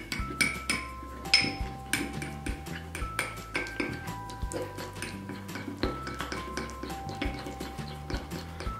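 A spoon stirs a paste of turmeric, gram flour and honey in a bowl. Quick, repeated metallic clinks and scrapes rise against the bowl in a steady rhythm, close and moderately loud, with no talking.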